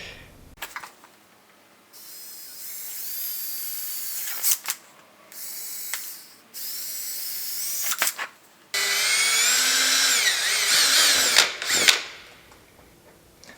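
A power drill bites into the plastic bumper of a crash-damaged 2008 Nissan 350Z in a series of bursts, its whining motor straining, pausing and restarting at close range, alone without voices.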